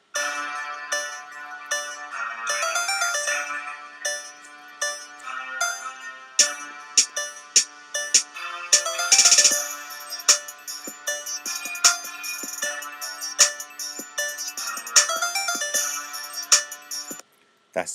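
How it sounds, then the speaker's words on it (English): A hip hop trap beat produced in Ableton plays steadily for about eighteen seconds, with a dense layered mix of sustained synth tones and sharp percussive hits, loud and up front with no voices. "That's a little preview of the beat."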